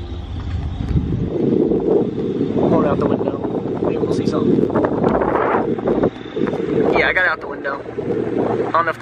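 Steady wind rushes through dark woods at night, a constant broad roar with gusty swells, while people speak quietly under it.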